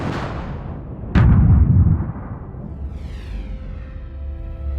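A sudden loud boom bursts out, rumbles, and fades into a low continuous roar, with faint whistling tones rising near the end.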